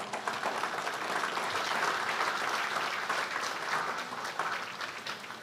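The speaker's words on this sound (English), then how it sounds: "let's have one more round of applause for Dirmar." Warm, steady applause rises from the crowd at a joint presidential inauguration for Dirmar, a dense wash of clapping that holds evenly for several seconds before easing slightly.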